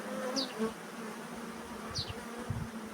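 A honeybee swarm buzzes around a bucket outdoors, a soft continuous hum with individual bees zipping past close by in brief passes.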